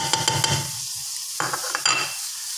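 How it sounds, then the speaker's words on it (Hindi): Onion, tomato and curry leaves fry in oil for biryani, a soft sizzle under brisk spoon stirring and scraping against the pot in two bursts, close and moderately loud. "इसको अच्छे तरीके से सबसे पहले भून लेना है हमने।"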